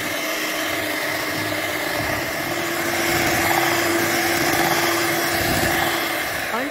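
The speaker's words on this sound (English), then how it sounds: "Using a hand mixer or stand mixer, mix the cream until it is fully whipped with stiff beads." A hand mixer whips cream for homemade vanilla ice cream, giving a steady, close motor whir with a faint tonal hum that runs unbroken throughout, with no talking.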